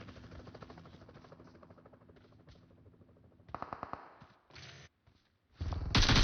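Within PUBG Mobile, a helicopter's buzzing rotor drones faintly at a distance, broken by short loud bursts of nearby gunfire, with no talk.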